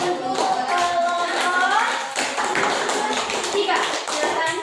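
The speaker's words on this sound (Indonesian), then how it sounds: "Kita berikan tepuk tangan untuk kelompok" A classroom of children claps for a student group, a busy patter of many small hands mixed with chatter and children's voices rising over it, close and fairly loud throughout.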